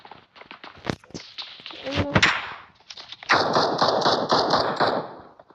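Gunfire in a shooter video game: a few sharp shots early on, then a dense stretch of rapid automatic fire with a high, sustained ring. Game noises fill the gaps between bursts, and the firing grows louder toward the end.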